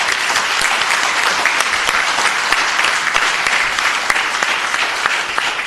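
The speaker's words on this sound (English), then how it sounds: "Yes, a round of applause." Audience at a city council meeting breaks into steady, full applause, a dense wash of clapping from many hands that continues evenly throughout with no talking over it.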